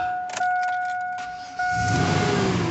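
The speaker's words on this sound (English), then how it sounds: "so I turned on the vehicle" A Cadillac Escalade, with its battery just reconnected, sounds a couple of soft electronic chime tones, then its engine fires up and holds a steady, moderately loud idle.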